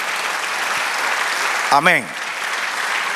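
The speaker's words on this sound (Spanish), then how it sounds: "Dale un aplauso al Señor." Church congregation applauding for the Lord, steady clapping throughout with a single voice briefly calling out over it.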